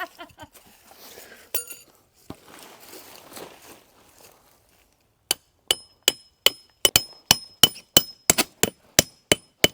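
Speech-like rustling first, then about a dozen sharp metallic strikes in a steady rhythm, close and loud, as tent stakes are hammered into ground with an axe.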